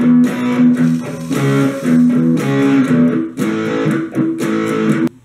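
A distorted electric guitar plays a palm-muted riff slowly, with chugging muted strokes alternating with ringing chords in a steady loud rhythm and no talking.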